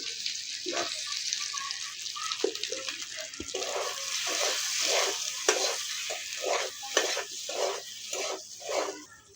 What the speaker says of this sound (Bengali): আমাদের আলুটা লাল করে ভাজা হয়ে গেছে